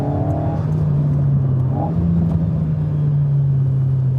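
An Alpine A110 engine rumbles loudly from inside the car, its note briefly dipping and rising as it blips on a gear change, with a steady drone throughout.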